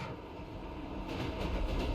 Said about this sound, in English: The train started moving slowly,